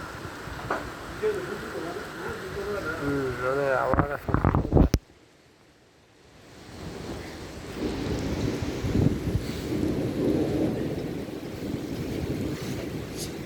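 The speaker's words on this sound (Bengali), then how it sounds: "কঠিন বৃষ্টিতে" Heavy rain with thunder in Italy: a voice is heard early, then a sharp burst cuts to near silence before a steady, dense roar of rain swells and fills the rest.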